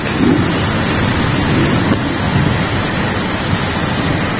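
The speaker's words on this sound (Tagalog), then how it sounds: "panoorin ko muna itong ulan kasi madalang to eh" Steady, dense rain pours down continuously in Qatar, a broad hissing wash with low rumbling underneath and no voices.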